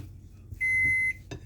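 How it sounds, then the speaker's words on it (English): A single sustained electronic beep from an oven signaling it is preheated, clear and close, followed by a short second tone, with quiet room noise around it. "Oven is ready. It's going to beep 6 times."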